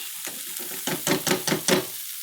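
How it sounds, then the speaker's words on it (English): Refried beans being mixed and mashed in a pan, a soft sizzle under a run of rhythmic scraping and mashing strokes that builds to several firmer, louder pushes before easing off. "now all you're going to do is mix and mash"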